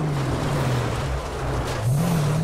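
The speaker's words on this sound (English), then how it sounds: "That's Prime Scrap just driving away." Prime Scrap vehicle driving away, a steady low engine drone with a slowly wavering pitch that stays fairly loud throughout, with no talk over it.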